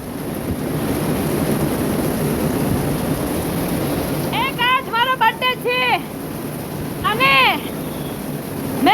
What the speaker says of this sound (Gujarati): ગજબ ગજબ પવન વાવાઝોડું વરસાદ ધમધોકાર